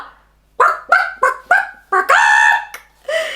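A voice imitates a rooster, starting with a run of short clucks that build into a longer crowing call, close and fairly loud.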